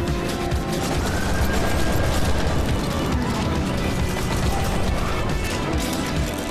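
Dense, continuous barrage of rapid explosive gunfire and blasts from an explosive weapon in the VR game Military Base Runner, loud and chaotic, with hardly a gap.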